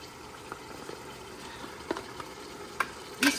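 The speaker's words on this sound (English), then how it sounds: "The spices go in now and sauteing it together" Spices with a tablespoon of garam masala sauté in a pan as a soft, steady sizzle, with a few sharp clinks and scrapes toward the end, close and fairly quiet.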